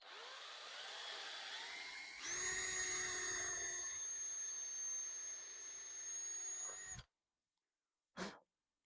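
A power drill whines steadily at high speed for several seconds while boring into wood for a DIY ottoman, then cuts off abruptly, followed by a brief short noise after a pause.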